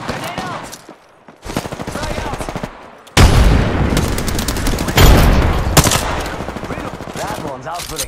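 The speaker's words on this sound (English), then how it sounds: "All right, shots fired and they're hitting me." Gunfire in the video game Apex Legends: rapid automatic bursts, loud and close, with pauses between volleys and a voice talking over parts of it.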